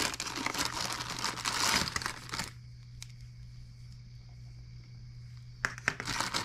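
A plastic bag of ignition-system accessories for a hot bulb horizontal mill engine crinkles and rustles in bursts, with a quiet pause and faint clicks between, under a low steady hum.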